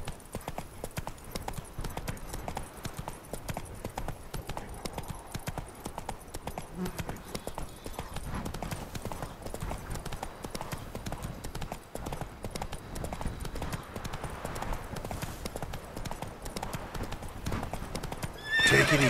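Horse hooves clip-clop steadily in The Witcher 3 video game, with a horse neighing near the end; the rhythmic hoofbeats run continuously at moderate loudness beneath game ambience.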